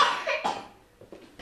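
A person coughing in a Hungarian news report about flu season and how to cough properly; a few short, close bursts at the start, then softer trailing breaths.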